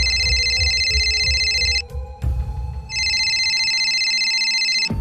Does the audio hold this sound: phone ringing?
yes